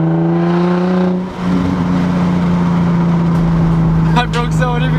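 Infiniti G35 with a budget aftermarket exhaust gives a loud droning engine note with strong harmonic tones, dipping briefly then holding steady at high revs, while someone talks over it.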